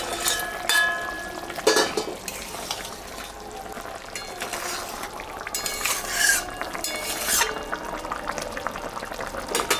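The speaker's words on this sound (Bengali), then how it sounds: "মাছটা এখন আমি দিয়ে দেব। ঝোলটা ফুটে গেছে।" Rohu fish pieces go into a bubbling Bengali mango fish curry, bringing splashy sizzling and liquid pouring and stirring sounds in bursts over steady boiling.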